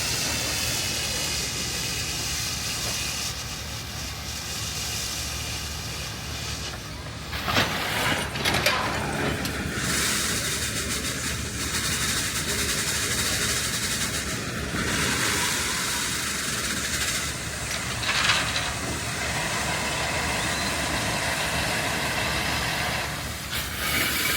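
A steam traction engine with two steam relief valves runs at a farm park tractor parade, giving a loud, sustained hiss and rumble with surges partway through and no speech.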